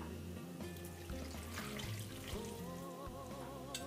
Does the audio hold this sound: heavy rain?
no